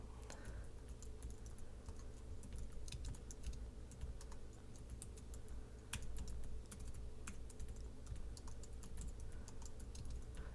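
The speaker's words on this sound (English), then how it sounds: "When you're typing, make sure to press the Enter or the Return key on a Mac" Steady typing on a computer keyboard, rapid irregular key clicks with a few sharper taps, close and fairly quiet over low background hum.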